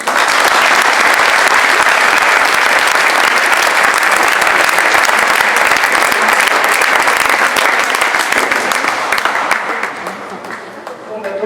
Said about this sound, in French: Donc franchement, vous pouvez l'applaudir fortement.